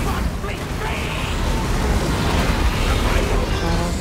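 Explosions from a bomber in Total War Warhammer 2 come through as a continuous heavy rumble with blasts and booms of battle, dense and loud throughout, with a voice talking over the noise.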